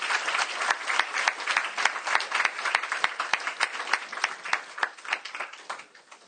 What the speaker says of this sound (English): Let's have a round of applause in the Krishna Purna